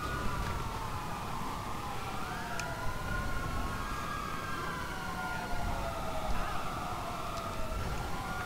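Wailing police sirens from Grand Theft Auto V rise and fall continuously over a low rumbling background, several overlapping tones sweeping up and down at moderate loudness throughout.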